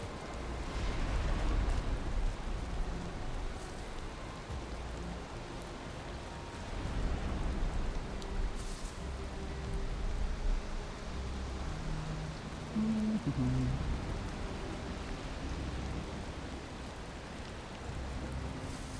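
Steady rain falls in Valheim as a continuous soft hiss with low rumbling underneath, lasting throughout at a moderate, even level.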